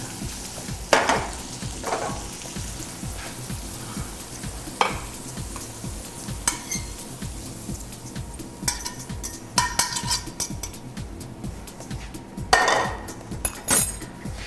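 Peas tossed in a hot pan, with steady frying sizzle and crackle, scattered sharp pops and clinks of the pan and utensils during stirring, close and moderately loud with no talk.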